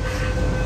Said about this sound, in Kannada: ಇನ್ನೊಂದು ಟ್ರೈನ್ ಬಂತು